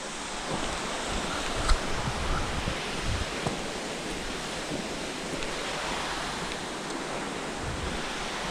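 Waterfall water rushes in a steady, broad roar that fills the whole scene without pause, heard outdoors in freezing 18-degree weather, with no voices over it.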